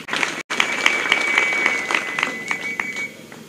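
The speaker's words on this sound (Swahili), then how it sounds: "ningependa ujipigie makofi" An audience applauding at a public gathering, a dense, sustained burst of clapping heard up close that fades slightly toward the end, with a thin high tone running over it.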